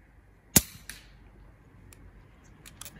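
A .22 air rifle fires a pellet at a target with one sharp, close crack, followed by a softer thwack and a few faint clicks of handling afterward, with no talking.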